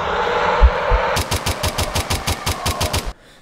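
Rapid burst of about a dozen evenly spaced gunshots from a gun in a horror video game, loud and close over a background hum, then cutting off abruptly.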